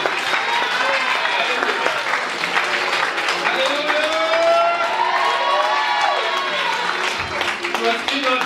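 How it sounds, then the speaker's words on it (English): A church congregation at a Sunday service claps loudly and steadily with cheering and whoops, voices mixed in throughout. "If I ask you to clap your hand for me"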